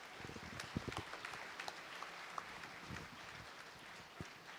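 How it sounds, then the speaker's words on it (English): Faint, distant applause fills the hall at a PSG College of Technology Foundation Day ceremony, a soft, steady patter of many hands with occasional louder individual claps. "Ladies and gentlemen, give it a big round of applause."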